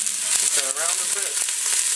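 Onions and cilantro stirred in hot oil in a pan, a steady close sizzle with soft scraping strokes running through the whole short stretch.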